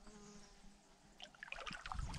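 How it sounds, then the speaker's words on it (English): A big bumblebee buzzes faintly around a portage trail in Algonquin in August, a soft drone growing a bit closer amid light rustling near water. "Big old bumblebee"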